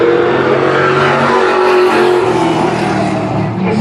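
Stock cars roar past during practice at an oval track, a loud, dense engine rush that stays steady throughout and fades slightly at the end.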